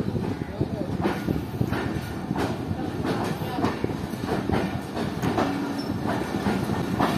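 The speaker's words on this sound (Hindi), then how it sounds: "तो दोस्तों ये जो है ये 46 जोन पाकिस्तान एक्सप्रेस के फैसलाबाद कोटा के कोचेज आ रहे हैं।" Pakistan Express coaches from Faisalabad rolling past at close range, a loud steady rumble with repeated clickety-clack wheel beats and faint squeal, voices murmuring beneath.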